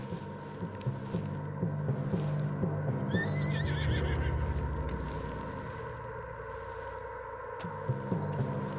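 A spooked horse in the video game Red Dead Redemption 2 gives a loud, wavering whinny partway through, rising over a low, steady rumble and ambient game background.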